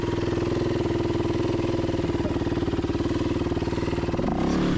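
A motorcycle engine running hard at high revs during a wheelie, a loud, steady, throbbing drone close by that shifts pitch slightly near the end.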